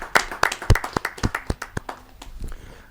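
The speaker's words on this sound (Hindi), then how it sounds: "जोरदार तालियों के साथ हम उनका स्वागत हैं।" Audience applause welcoming a poet at a kavi sammelan, a quick series of sharp claps from a modest crowd that thins and fades out toward the end.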